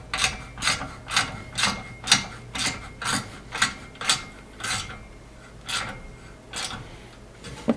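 A ratchet wrench tightens a bolt on an upper front brush guard bumper of a Polaris Ranger XP 1000, giving a steady series of about a dozen sharp clicking bursts, close and clear, with no talking.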